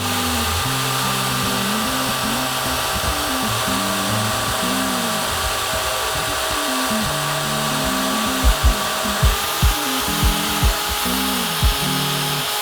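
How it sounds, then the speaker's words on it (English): Power grinding and milling on a forged steel dagger guard, a steady loud whining machine tone running throughout with a few sharp thuds and clunks toward the end. "Now that I've cut, ground, and milled the extra material off the ends here"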